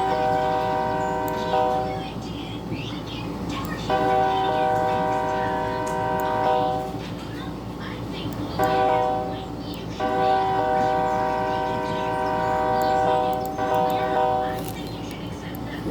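A BNSF warbonnet locomotive's multi-note horn sounds in several long blasts separated by short gaps, loud and close over a rumbling background.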